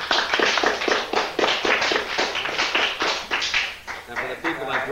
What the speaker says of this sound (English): give a round of applause for our host and hostess